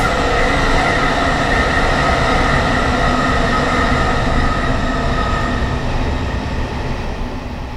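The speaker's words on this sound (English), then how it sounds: "I think we were waiting for that train to pass, which it has" A London Underground S8 stock train passes in the Train Simulator 2019 game, a loud, steady rumble of wheels and carriages that fills the whole stretch and eases off slightly near the end.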